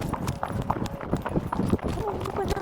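Horse hooves clip-clop on an unpaved dirt village road during a ride with several horses, a steady irregular patter of hoofbeats close by under ongoing talk.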